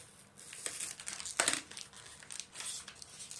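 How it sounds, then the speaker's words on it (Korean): Someone tears open a mailed package of Seventeen fan merchandise, producing crinkly plastic and paper rustling with a sharper tearing burst near the middle, close and fairly quiet, with no talking. "뜯어볼게요"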